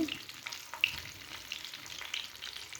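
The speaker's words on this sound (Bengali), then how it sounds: "একটু জালটাকে কমিয়ে কিন্তু ভাজতে হবে" Rice lollipop roll pitha, made from leftover rice, frying in oil over low heat, giving a soft steady sizzle with faint bubbling and a couple of small clicks, close by and no talk.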